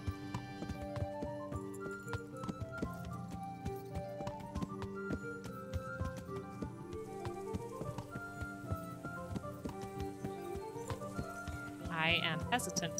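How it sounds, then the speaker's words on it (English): A horse walking with clip-clopping hooves while ridden in Kingdom Come: Deliverance, steady rhythmic steps under continuous music, with a short whinny-like burst near the end. "I am hesitant to gallop with this horse because it has been going so well."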